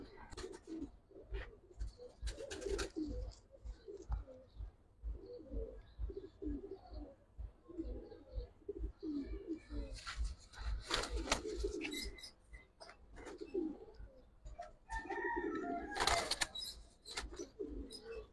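Pigeons coo repeatedly in soft, low throaty bursts, several birds close by with irregular phrases overlapping, occasional sharper chirps and rustles between, no talking.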